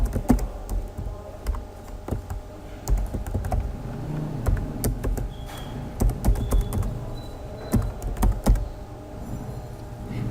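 An email address is typed on a computer keyboard during an online account sign-up, with close, irregular bursts of key clicks and clacks, some keys struck harder than others, and no talking.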